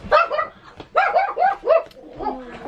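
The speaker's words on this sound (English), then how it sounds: "the mail lady's here and the dog's going crazy" A pet dog barks excitedly in a series of sharp, high-pitched yaps, loud and close, in short bursts with brief pauses, as if reacting to a mail carrier at the door.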